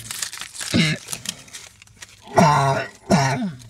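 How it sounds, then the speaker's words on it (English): A man coughs and clears his throat several times in short, rough bursts, with three louder hacking fits close by, some muffled crinkling between them, in an indoor setting. "I'm coughing, and I normally don't cough like this a whole lot."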